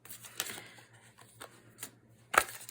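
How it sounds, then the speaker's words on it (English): Tarot cards from a Meraki Tarot deck are shuffled by hand, a few soft riffling flicks and slaps spread across the moment, ending in one sharper snap, with no talking. "we're going to shuffle that card back in together"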